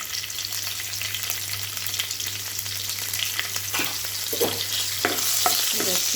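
Green chillies fry in a hot pan with a steady, dense sizzle, broken up by repeated clinks and scrapes of stirring. The stirring grows a little louder toward the end, and no one speaks.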